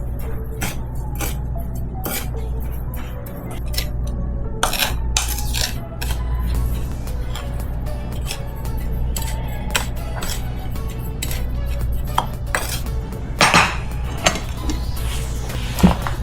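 Seasoned food with paprika, pepper and salt being mixed in a pan or bowl, close clinks, taps and scrapes of utensils over a steady low background hum, irregular and busy.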